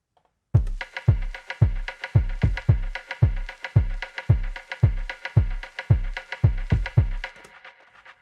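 An ambient electronic mix layers reverb-soaked synth tones with steady percussion, a deep kick thumping in a regular pulse about twice a second beneath a spacious shimmering bed.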